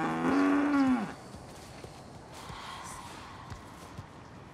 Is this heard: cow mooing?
yes